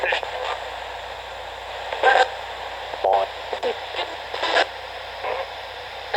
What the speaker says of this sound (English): So, volume was too loud on the radio.